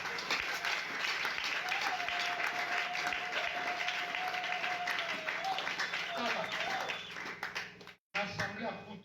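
A church congregation applauds and cheers loudly for Jesus during a Christian service, with sustained clapping and crowd noise running steadily before cutting out near the end and briefly resuming.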